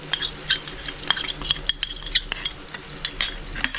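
A spoon stirring ginger-garlic paste into onion paste in a pan for chicken roast, with repeated scraping knocks against metal over a faint sizzle.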